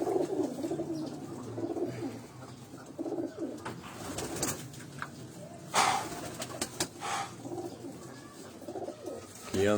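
Pigeons coo repeatedly from a rooftop loft in Rawalpindi, where old racing birds are kept. The soft, rolling calls are fairly close and steady, with faint background noise and a few brief louder knocks.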